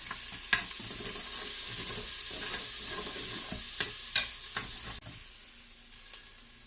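Onions sauté in an Instant Pot with a soft, steady sizzle, while a few spoon scrapes and taps sound close by and a sharper knock comes near the end; no one speaks.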